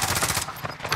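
Rapid automatic M16 rifle fire from Call of Duty: Modern Warfare crackles in a short burst of quick repeated shots, fairly close and moderately loud.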